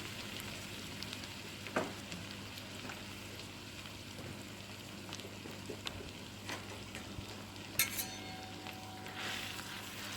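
Chopped onion frying in a pan, a soft continuous sizzle with a few faint utensil clinks and stirring scrapes, fairly quiet and steady with no voices.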